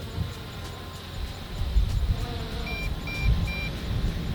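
MJX Bugs 2 GPS FPV drone controller giving off short repeated high beeps in an evenly spaced series, faint against a low rumbling outdoor background.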